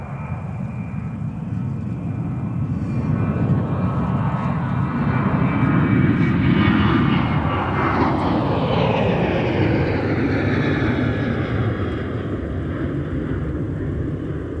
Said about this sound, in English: let's get this next departure on 30 left for Sun Country 607 off to Phoenix Sky Harbor.